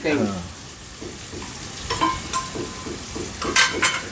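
Raw green mango pieces cook in a hot pan, a steady sizzle running under repeated scraping stirs with a few sharper clinks of utensil against metal near the end.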